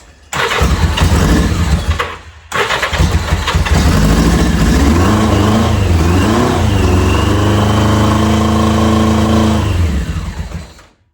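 A 1983 Yamaha XJ900 Seca motorcycle engine cranks and fires, briefly cutting out before catching again, then runs loud and steady with a rising rev before dying away at the end.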